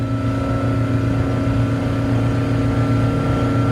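A Glastron GT 209 cuddy boat with a Volvo Penta 4.3 GXi 225 HP engine running steadily at about 4000 RPM, a loud continuous droning hum with strong steady tones, no speech.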